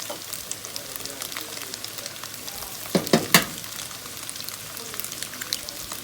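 Two eggs frying in the middle of a pan of pad thai, giving a continuous crackling sizzle with a few sharp spatula clacks partway through, close and moderately loud.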